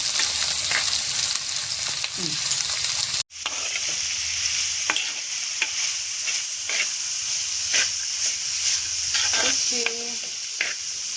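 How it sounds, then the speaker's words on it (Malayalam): Onions with ginger garlic paste sauté in a pan, giving a continuous close hissing sizzle broken by repeated scraping strokes of a stirring spoon, with one brief cut partway through. "ഓക്കെ നമ്മുടെ ഉള്ളി നന്നായി വഴണ്ട് വന്നു"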